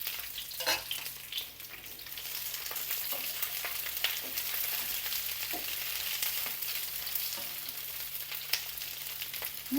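Sliced onion and capsicum fry in hot oil for a curry, with a steady close sizzle and scattered spatula scrapes and clicks running throughout.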